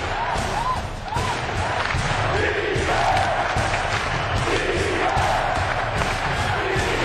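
Cleveland Cavaliers fans in a basketball arena during an NBA Finals game against the San Antonio Spurs, a loud continuous roar of cheering and yelling with a commentator's voice audible under it.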